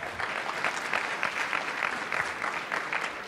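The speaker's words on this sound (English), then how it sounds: "Let's give him a quick round of applause." Steady, enthusiastic clapping from a crowd of guests at a wedding reception, cheering the bride and groom, continuous and dense throughout with no talk over it.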